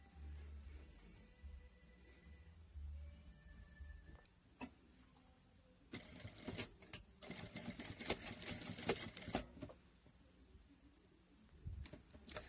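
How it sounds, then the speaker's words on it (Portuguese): A sewing machine runs a short burst of stitching on a soft newborn cloth diaper, a rapid close mechanical whirr of about four seconds that follows quiet handling sounds and a few clicks. "E vou passar uma costurinha de segurança para segurar essa pontinha."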